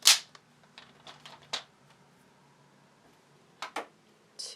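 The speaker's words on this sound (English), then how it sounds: "I'm just going to use my tape gun" A tape gun used on paper planner dividers gives a few sharp, close snaps and ratchety clicks, spread out with quiet gaps over faint background hum, and no one speaks.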